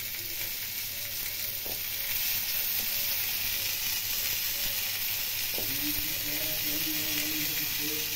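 Cumin powder and chilli powder sizzle steadily in hot oil, a loud continuous frying hiss with faint stirring scrapes throughout and no talking.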